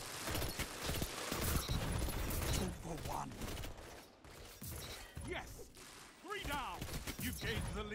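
Pulse rifle firing in the game Destiny, loud bursts of rapid shots in uneven clusters, with a voice talking over and between them.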